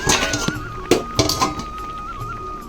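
A metal pot lid clinks and scrapes as it is shifted aside over cooking ash gourd, a few sharp knocks close by over a quiet kitchen background, no talking.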